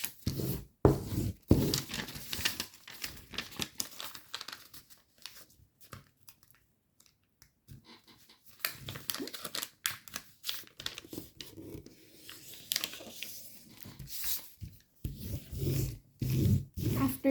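Paper is creased and folded for an origami battle tank, with crisp crinkles and sharp rustling bursts close up, broken by short quiet pauses.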